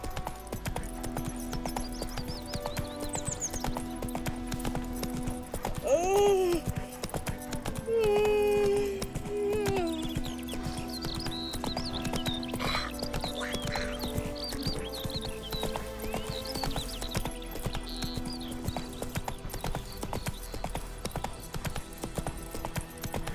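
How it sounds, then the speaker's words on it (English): Horse hooves clip-clop at a steady walking rhythm in The Witcher 3, a fantasy video game, under a constant music and ambience bed, with a couple of brief whinnies partway through. "Whoa there, Roach."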